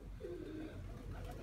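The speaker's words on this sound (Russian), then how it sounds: "Голуби, половина в голубяте, половина внутри." Pigeons coo softly in a dovecote, with one low burring coo standing out against a dull background rumble.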